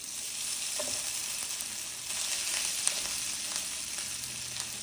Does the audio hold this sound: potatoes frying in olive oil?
yes